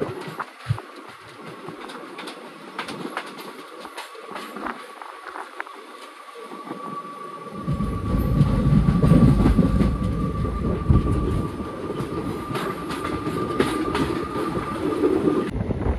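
The Tirupati Weekly Express, train 17621, runs past near Chittapur and the Wadi bypass: quiet at first, then a loud, steady rolling rumble and rhythmic wheel clatter swells in and holds to the end, with no voices.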